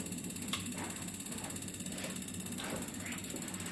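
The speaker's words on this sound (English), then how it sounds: "You begin tightening very slowly, and you'll hear that the sound will change." A Siemens piezo common rail injector assembly is tightened slowly with a tool, giving faint rapid ratcheting clicks in an even rhythm over a steady background hum.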